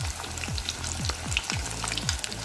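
A salmon fish head frying crispy in a pan, a close, dense sizzle with rhythmic scraping strokes repeating about every half second.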